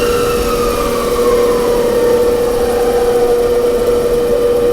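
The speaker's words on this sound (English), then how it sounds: "And our spindle is running." The DC spindle motor of a D&M4 CNC mill runs with a steady, loud tonal whine and a lower hum that shifts slightly as the speed changes, with no voices.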